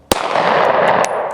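A single sharp 9 mm pistol shot fired toward a target 200 yards away at an outdoor range, a hard crack at the start followed by a long, rolling echo that fills the rest of the moment.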